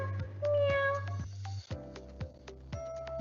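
A cat meows loudly several times in close succession, one long drawn-out cry followed by shorter meows, near and clear with little else around.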